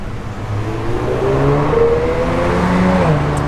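A fuel-injected 1965 Ford Mustang engine running close by after firing up, a steady rumbling idle with a slight rise in revs partway through.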